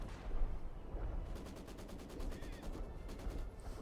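Heavy gunfire and artillery in Company of Heroes 2, a low rumbling barrage with rapid machine-gun bursts rattling in the middle distance, steady and fairly faint throughout.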